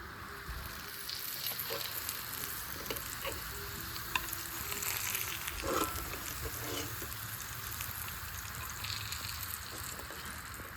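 Fish chops frying in hot oil, a steady close sizzle and crackle running throughout with occasional stirring clinks and faint background murmur.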